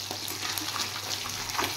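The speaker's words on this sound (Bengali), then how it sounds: "হালকা ভাজছি।" Fish fries lightly in oil in a pan, without turmeric, giving a steady close sizzle with small crackles and no talk.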